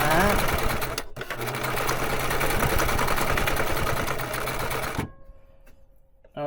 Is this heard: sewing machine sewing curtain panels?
yes